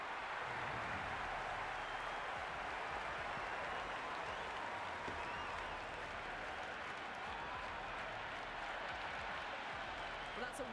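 Steady crowd applause and cheering fills a cricket stadium in the Cricket 26 video game, an even wash of clapping that carries on throughout without a break.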